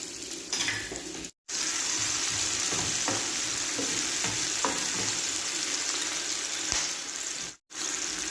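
Onion sautéing in a pan for vegetable pinakbet, a loud continuous sizzle close up with faint stirring scrapes, broken twice by brief silences.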